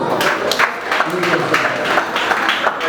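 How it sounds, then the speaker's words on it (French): Guests at a French civil wedding ceremony applaud with steady, moderate clapping from a small group in a room, while an officiant's voice talks over it throughout. "Veuillez recevoir sous les applaudissements d'assistance."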